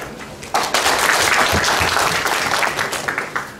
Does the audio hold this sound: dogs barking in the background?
no